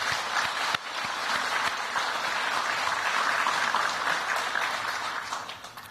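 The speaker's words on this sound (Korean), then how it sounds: "따뜻한 환영의 박수를 부탁드립니다." Warm applause of welcome for a war veteran's spouse at a presidential luncheon for Korean War veterans, a sustained crowd of clapping hands that holds steady and then tapers off at the end.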